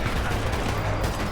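Gunfire in the co-op video game Sniper Elite 4, a dense burst of loud, rumbling shots filling a brief moment.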